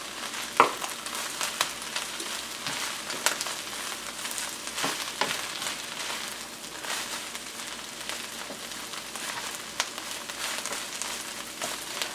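Dandelion greens sautéed with bread in a pan, steady soft sizzling broken by scraping stirs of a utensil against the pan, close and continuous with no talking.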